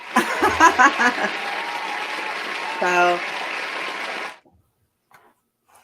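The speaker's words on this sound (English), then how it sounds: "I'll just hit the applause button" Canned applause triggered from a soundboard button, a burst of clapping and cheering with a voice talking over it, which cuts off abruptly after about four seconds into near silence.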